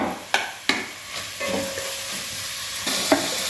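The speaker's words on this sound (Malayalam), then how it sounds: "ചെറിയ ഉള്ളി ഇട്ട ശേഷം ഒരു മിനിറ്റ് നമ്മൾ ഇതിനെ ഇളക്കിക്കൊണ്ടിരിക്കുക." Small onions frying in a pan while being stirred, with a steady sizzle throughout and a few sharp scraping knocks from the spoon against the pan; close and fairly loud, no speech.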